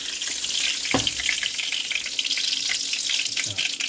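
Breaded chicken for chicken parmesan sizzles and crackles in a hot frying pan, a loud continuous hiss with a brief clunk near the start.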